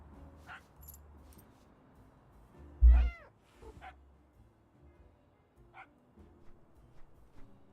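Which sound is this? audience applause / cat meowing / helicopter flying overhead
cat meowing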